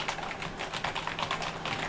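Keys clatter steadily on an E-Blue Combatant keyboard with a built-in wrist rest, a dense run of quick, fairly loud clicks up close with no talking.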